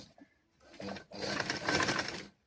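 A sewing machine stitching fabric in a tailoring lesson, starting with a short burst, a brief stop, then a longer steady whirring run of rapid needle clatter, close and moderately loud, with no talk.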